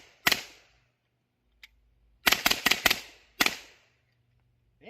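A B&T SPC9 gas-operated gun fires: one sharp crack, then a rapid cluster of four shots, then a single shot, each loud and close with a short decay, in an otherwise quiet space.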